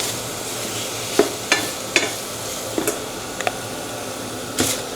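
Cooking oil sizzles steadily in a frying pan as salt goes in, a constant soft hiss broken by several short scraping clicks and stirring sounds, heard close with no talking.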